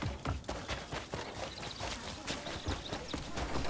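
Horse hooves clip-clop steadily in the open-world video game Crimson Desert, a continuous rhythmic trot of close, moderately loud hoofbeats over a busy game soundscape.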